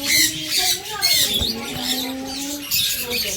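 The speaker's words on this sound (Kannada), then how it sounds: "ಈ ಪಕ್ಷಿಗಳು ಬಂದ್ಬಿಟ್ಟು ಕ್ಯಾಪ್ಟಿವ್ ಬರ್ಡ್ಸ್ ಆಗಿರ್ತಾರೆ. ಇವರಿಗೆ ಇವರ ಹೊರ ದೇಶ ಪಕ್ಷಿ." Captive foreign birds at a pet sanctuary on Kanakapura Road in Bengaluru squawk and chatter loudly and continuously, several calls overlapping close by.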